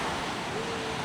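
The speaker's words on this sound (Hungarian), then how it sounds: "vadak a hullámok, kérem szépen" Rough, wild ocean waves on a Costa Rica beach give a steady, loud roar of surf and wind noise throughout the brief stretch, with no distinct breaks.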